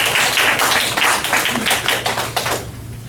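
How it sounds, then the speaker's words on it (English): A meeting crowd at a Shelby County Republican Party gathering claps in a dense, steady patter that stays loud for about two and a half seconds and then thins out near the end. "Everybody clap."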